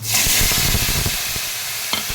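Teasel gourd pieces drop into potatoes frying in oil, setting off a loud, close burst of sizzling that hisses on steadily and eases slightly.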